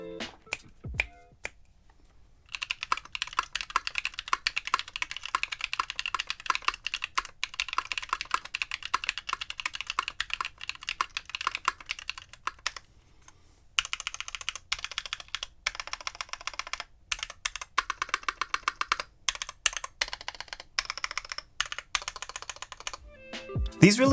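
KNC Keys Tofu full nylon linear switches on a brass plate, typed steadily in dense rapid bursts of close, crisp clacks with a brief pause mid-way.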